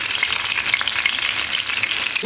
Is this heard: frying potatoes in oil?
yes